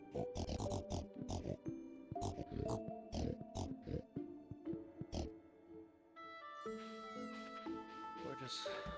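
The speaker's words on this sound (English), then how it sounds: "Let's go let those pigs out." Pigs in the farming video game Stardew Valley grunt and oink in a series of sharp bursts at a fast uneven pace, then a denser jumble of game sounds follows near the end.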